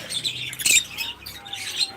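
Lovebirds and budgerigars at a bird farm chirp and squawk together in short, overlapping high calls, with one sharper burst standing out near the middle.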